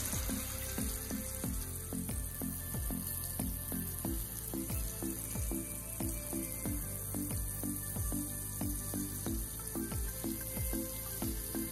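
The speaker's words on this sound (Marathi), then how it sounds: "आपल्याला स्लो फ्लेमवरती मच्छी चांगली फ्राय करून घ्यायची." Fish frying on a tawa over a low gas flame gives a steady, close sizzle that runs throughout, partly mixed under rhythmic background music.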